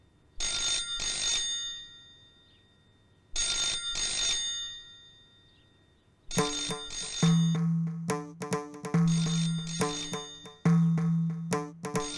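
A telephone rings in bursts: two long electronic trills, then a louder, tonal ringtone pattern repeating, close and alone.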